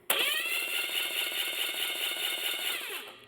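An engine's internals spin over with a smooth mechanical whir that starts abruptly, holds steady for about three seconds, then winds down and stops.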